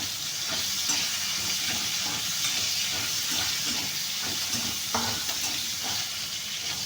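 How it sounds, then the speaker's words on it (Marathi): Chopped green chillies frying in hot oil with cumin for sabudana khichdi give a steady, close, crackling sizzle that continues evenly throughout, with no talking. "आता आपण याच्यामध्ये टाकणार आहोत कापून घेतलेल्या मिरच्या, त्याही छान तेलामध्ये तळून घेऊया।"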